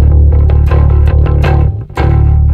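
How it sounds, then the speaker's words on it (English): A Rickenbacker bass guitar through an HX Stomp XL octave effect plays a steady low line with a thick, doubled octave tone, loud and continuous with a brief dip near the end. "Here's our octave."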